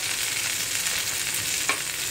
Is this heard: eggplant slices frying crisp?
yes